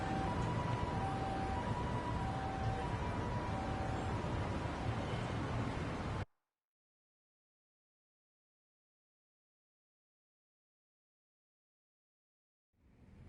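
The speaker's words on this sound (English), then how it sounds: "Siren." A wailing siren sounds in the Lost Judgment video game, a steady noisy drone with a repeating tone running for about six seconds before it cuts to silence, and faint sound returns at the very end.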